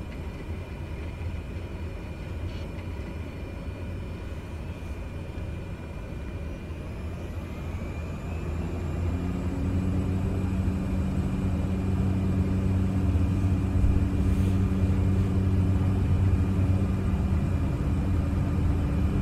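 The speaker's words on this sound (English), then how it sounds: "Hard to keep this airplane on the ground." A Cessna 208B Caravan turboprop in Microsoft Flight Simulator 2020 spools up for takeoff, its steady engine drone swelling louder midway into a sustained roaring rumble with tonal hum, no voices.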